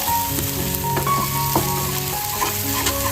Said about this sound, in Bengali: এরপর আমি সবকটা মশলাকে ভালো করে আবার কষিয়ে নেব যতক্ষণ না মশলা থেকে তেল ছাড়বে